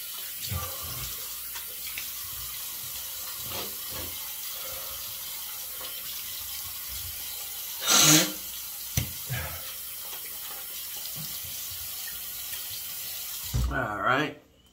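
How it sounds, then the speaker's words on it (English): Shaving razor rinsed under a running tap at a sink, a steady wash of water throughout with a louder splash midway and another near the end, heard up close. "So a little rinse."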